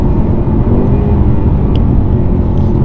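A 2023 Ford Mustang V8 braking, heard as a loud, steady, close rumble of engine and road noise that holds for about three seconds.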